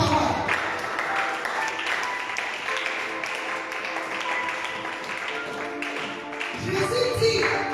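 A church congregation applauding and cheering: steady, sustained clapping from many hands, mixed with raised voices throughout and swelling near the end.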